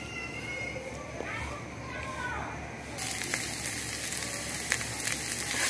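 Food sizzles as it is sautéed and fried in a pan while cooking pulao rice. A soft hiss turns to a louder, brighter crackle partway through, with faint voices in the background.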